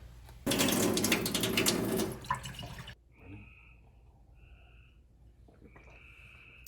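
A loud rush of water pours steadily from a reverse osmosis filter faucet for a couple of seconds, then stops, leaving quiet room sound with a few faint tones.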